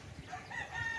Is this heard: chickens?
yes